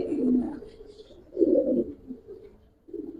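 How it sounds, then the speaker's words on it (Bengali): Soft, low cooing of Giribaz pigeons at a pigeon loft comes in a few separate bursts, close by and unhurried, with quiet pauses between them. "অনেক সুন্দর একটা কবুতর"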